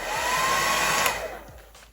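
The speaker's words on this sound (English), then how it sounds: "and we got our blow dryer." A handheld hair blow dryer runs steadily at close range with a loud, continuous whooshing roar during a lace front wig install, then dips slightly near the end.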